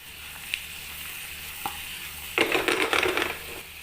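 Fried chicken wings dropped into a hot pan burst into loud sizzling frying that lasts about a second, after faint quieter sizzle and a couple of small clinks.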